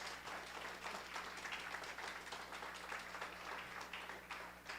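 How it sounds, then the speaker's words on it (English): Audience applause at a Voices of Freedom live-streamed community event in Urbana-Champaign, a steady wash of clapping held at a fairly low, even level throughout, with no voices over it. "So let's give them another round of applause."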